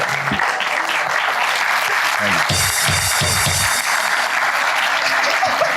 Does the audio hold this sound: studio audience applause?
yes